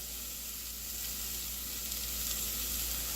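Onion and garlic sizzle in a hot pan for pizza and pasta sauce, a bright, steady hiss close by with no voices.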